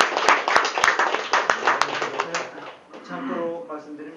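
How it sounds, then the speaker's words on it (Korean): Audience applause at a 2017 blockchain trends presentation in Korea, a burst of scattered clapping with sharp individual claps that fades after about two seconds, giving way to a voice speaking. "박수 한번 쳐주십시오"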